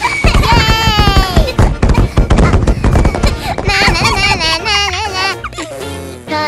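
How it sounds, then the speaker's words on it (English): Firecrackers set off in a Roblox game town crackle in a rapid burst of sharp pops, followed by loud crying and shouting voices over the noise. "Let's set on firecracker and call cars in this whole town."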